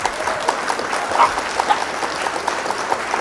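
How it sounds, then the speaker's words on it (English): A crowd applauds steadily after a Flesh and Blood card game match, a dense patter of many hands clapping at moderate volume with no pauses. "Round of applause for opponent."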